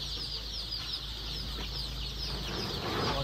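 Many chicks peep in a poultry brooding shed, a dense, continuous chorus of high chirping that holds steady throughout with no voices.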